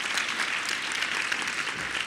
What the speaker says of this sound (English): Please give Kristalina a round of applause.